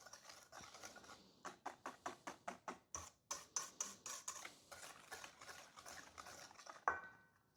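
A cup of sugar being stirred into a pecan and coconut pie filling, a quiet run of quick rhythmic clinks and taps from the spoon against the bowl, close and alone, ending in one sharper knock.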